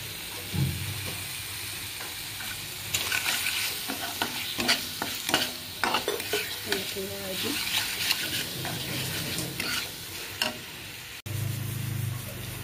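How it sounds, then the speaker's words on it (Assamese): Chickpeas fry in a pan with a pinch of Maggi masala as a spoon scrapes and stirs in irregular close strokes, with a soft sizzle underneath and brief louder sizzling bursts. "এতিয়া এইটো ভজা হ'লত মই অকণমান মেগী মছলা দি দিম।"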